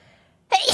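A single sharp sneeze bursts out after near-silence, loud and close, cutting off abruptly.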